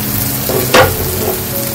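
Spices for a banana flower fritter curry sizzle steadily in a hot pan, a close continuous crackle with one brief sharper hiss of stirring near the middle.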